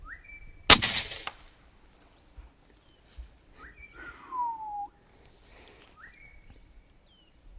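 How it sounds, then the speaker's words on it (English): A single sharp, loud rifle crack rings out in open country at a dassie, with a short echoing tail, and scattered bird whistles sound before and after. "I take my time and I pull the trigger."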